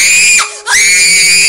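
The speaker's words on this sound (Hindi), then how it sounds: "फिर एक दम वो चीख मार के उठी।" A loud, high-pitched woman's scream in a horror story podcast, two piercing cries split by a brief gap, close and alone without talk.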